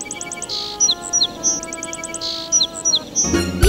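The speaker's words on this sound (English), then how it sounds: "See, even this sparrow is saying thank you." A sparrow chirps in quick repeated bursts of bright, high tweets, set over a soft steady musical backdrop in a children's cartoon about birds.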